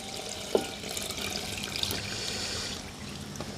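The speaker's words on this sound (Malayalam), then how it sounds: "ഇത് 1-ാം പാൽ 2-ാം പാലോ കൂടി ചേർത്തുള്ള ഒറ്റ പാലാണ് ഇതിലേക്ക് ഒഴിക്കുന്നു കേട്ടോ." Coconut milk is poured into a pot while making koova aluva, a soft continuous liquid trickle close by, with a brief knock near the start.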